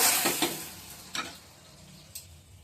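Whole dried chili, bay leaf and black cumin crackling in hot oil to temper dal, a soft steady sizzle with a few sharp pops and stirring clinks at irregular intervals.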